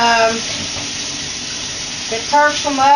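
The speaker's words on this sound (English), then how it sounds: "give them a good little rinsing off here in this cold water" Cold water runs steadily from a tap over vegetables being rinsed, splashing softly, with a faint voice coming in near the end.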